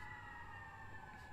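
An ambulance siren passes by outside, a steady wailing tone held loud throughout the short moment under a rumble of traffic.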